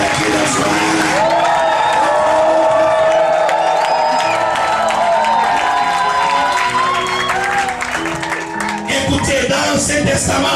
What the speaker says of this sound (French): est-ce qu'on peut acclamer pour notre Seigneur et Sauveur Jésus-Christ de Nazareth?